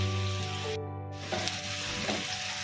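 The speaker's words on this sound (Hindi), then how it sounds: "चलिए हम तेल में डाल देते हैं।" Onion, garlic and ginger dropped into hot oil for chole gravy, giving a bright, close sizzle that keeps crackling steadily through the short stretch.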